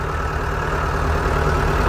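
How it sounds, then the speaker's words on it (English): A clutch tractor's engine runs steadily at close range, a loud continuous low rumble and drone with no pauses and no talk over it. "First time with a clutch tractor in it, Maxie?"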